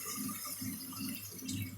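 Water is poured from a tap into a pan of tomato paste, a brief close gurgling splash and trickle that runs in short pulses for under two seconds.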